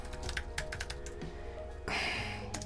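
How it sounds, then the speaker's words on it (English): Typing on an Apple Space Gray Magic Keyboard with keypad: a run of quick, close key clicks with a steady patter, then a denser burst of keystrokes near the end, with no voices. "what is it like to type on? Because this is, after all, a keyboard"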